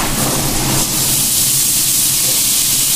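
Soaked chickpeas tipped into a hot pan of fried potatoes and spices set off a loud, steady sizzle that stays bright and unbroken, close up, with no talking.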